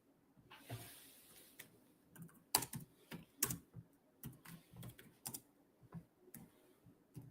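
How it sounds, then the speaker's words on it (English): Rapid, irregular clacking of keys on a computer keyboard, close by, with bursts and short pauses, no voices. "Hold on. I'm just typing."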